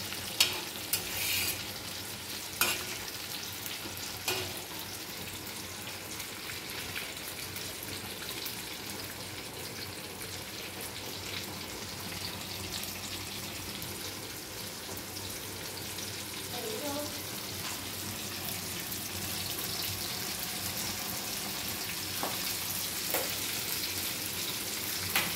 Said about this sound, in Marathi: बघा फ्रेंड कसे मासे परताय लागले